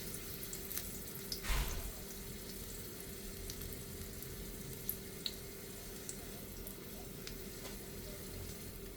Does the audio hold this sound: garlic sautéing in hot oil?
yes